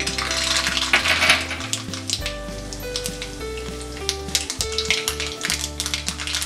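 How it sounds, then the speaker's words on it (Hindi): Mustard seeds popping and crackling in hot oil in a pan, the same oil just used to fry peanuts for kanda poha, a dense, busy sizzle with scattered sharp pops and taps, close and fairly loud, no talking. "अब हम उसी तेल में राई डालेंगे"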